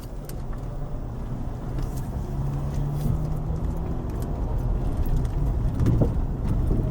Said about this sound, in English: We'll take a drive in an alleyway here.